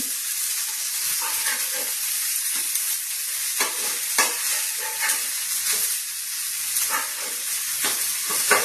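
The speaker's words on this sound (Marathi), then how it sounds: "एकदा टिक्की आपली परतून घ्यायची." Steady sizzling of tikki patties frying in a hot pan, with occasional scraping and stirring clicks over the continuous hiss.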